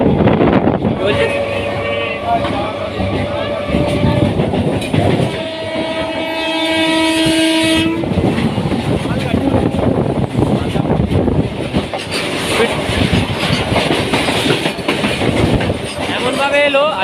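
A Haldia Fast EMU local train on the Howrah–Tamluk line near Kolkata runs with a loud, continuous rumble and rattle. Its horn blares in sustained tones during the first half, and the rolling clatter continues steadily afterward.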